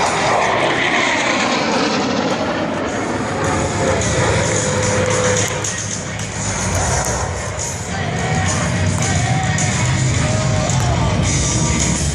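A Harrier-type VSTOL jet's engine roars loudly and steadily at an air show, a constant powerful whine and rumble that barely changes as the aircraft hovers nearby.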